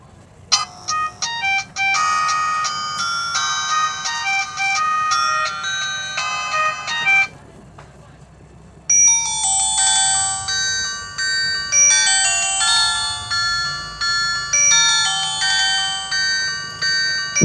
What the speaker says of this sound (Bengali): চলুন দেখা যাক যে এই ফোনটির রিংটোনের সাউন্ড কেমন ছিল।